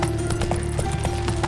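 Roach, a horse in The Witcher 3, clip-clopping at a steady trot, hoofbeats close and even over a constant low game hum.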